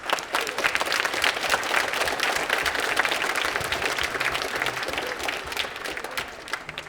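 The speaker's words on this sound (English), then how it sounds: "Round of applause for yourselves." Audience applause at a school winter concert for sixth graders, steady dense clapping from a large crowd filling the room for several seconds, fairly distant and even, no talk over it.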